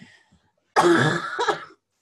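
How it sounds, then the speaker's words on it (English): One sharp, harsh cough bursts out close by, followed by a brief second rasp, with silence before and after. "I didn't quite get that cough to the mute in time"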